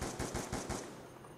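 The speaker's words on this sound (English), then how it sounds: "What the hell is with people using LMGs with suppressors?" Suppressed light machine gun fire in Black Ops 2, a quick burst of about five muffled rapid shots in the first 0.8 seconds, then fading into background game noise.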